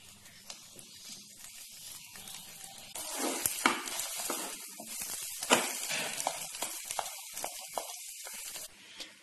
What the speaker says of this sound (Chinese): 把火腿肠放进去煎一下。